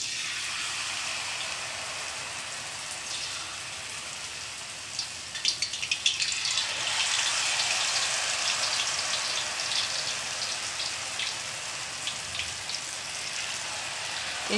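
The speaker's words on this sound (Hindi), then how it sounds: "तेल ऐड करने के बाद एक एक स्टिक को लूँगी और इसके अंदर फ्राई कर लूँगी" Battered potato sticks frying in hot oil in a kadai, a steady soft hiss that swells into brighter bubbling crackle partway through, alone without talk.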